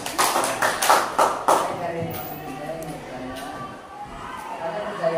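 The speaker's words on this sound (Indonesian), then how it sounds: "Tepuk tangan dulu biar semangat." A group at an Indonesian teachers' coaching session claps together in a short burst of several quick hand claps near the start, then the room settles into quiet murmurs and faint taps.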